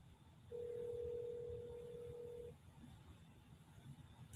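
A single steady telephone tone sounds for about two seconds over faint background hiss, then stops, leaving quiet room noise.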